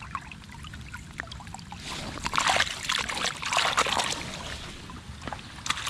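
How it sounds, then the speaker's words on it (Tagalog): Water in a cucumber plot's water system draining quickly: a soft gush and trickle with splashy bursts that swell in the middle, fairly faint and close, with no talk. "Drain agad yung tubig, ang bilis po."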